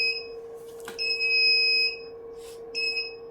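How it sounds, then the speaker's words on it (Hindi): A buzzer built into a Prizor Plus series network video recorder sounds during an alarm test, giving two sustained electronic tones, one long and one shorter, over a steady background hum. "NVR के अंदर भी एक अलार्म डिवाइस यहाँ पे दिया हुआ है, बजर, जो यहाँ पे ट्रिगर होता है"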